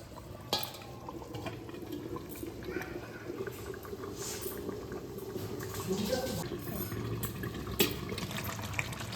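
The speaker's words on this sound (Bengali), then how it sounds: "তরকারিটা খুব সুন্দরভাবে ফুটছে" A curry of potato and eggplant boiling in a pot in the background of a fish recipe, a low steady bubbling with a few light clinks, close and moderately quiet.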